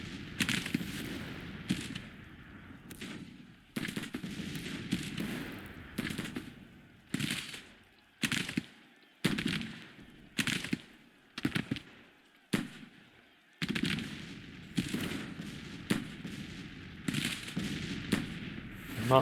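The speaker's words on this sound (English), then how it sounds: "Now we do have some artillery firing into them" Civil War artillery and massed musket fire in the Grand Tactician strategy game, repeated sharp crackling volleys and booms in irregular bursts separated by short lulls, moderately loud with no talking.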